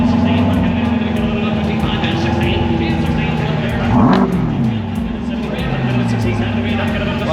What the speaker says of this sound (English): I want to hear this Corvette run.